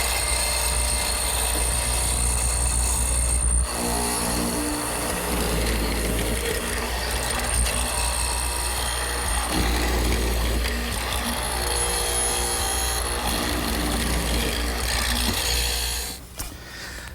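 A hollow chisel mortiser with a 3/8-inch square chisel around a drill bit cuts a 1.5-inch-deep mortise into a chestnut desk leg, giving a steady, loud machine drone with grinding and scraping, close up and without talk.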